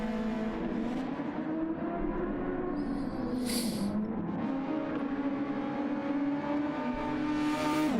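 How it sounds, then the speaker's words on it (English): Racing cars in a simulated race run close together, a steady layered engine drone holding a high pitch with slight rises and dips, continuous and fairly loud. "So a lot of cars close to each other."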